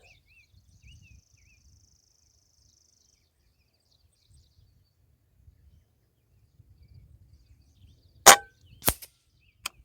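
Kral Puncher Knight .22 unregulated PCP air rifle firing outdoors, two sharp, loud cracks in quick succession followed by a faint third, after near silence with faint insects and birds.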